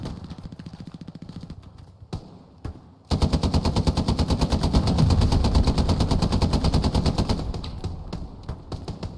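Machine gun fire in Hell Let Loose: sporadic bursts give way to a long, loud, rapid rattle of sustained automatic shots that gradually eases off.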